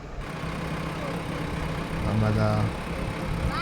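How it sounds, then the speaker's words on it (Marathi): A tractor engine runs steadily through a family ride, a continuous low rumble with a brief swell in revving partway through, and a voice speaks briefly over it. "ट्रॅक्टरवर राऊंड मारायला."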